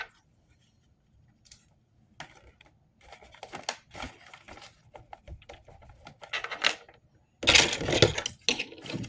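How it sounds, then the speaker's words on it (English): Scissors snipping out tires for a DIY model car, with irregular crisp cuts and paper rustling that grow busier and louder toward the end, close and without talk. "let me cut all the tires out and put them in there"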